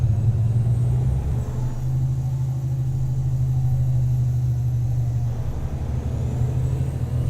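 A truck engine labours slowly uphill in low gear, a loud, steady low drone with a deep rumble that barely changes, heard from inside the cab with no talk.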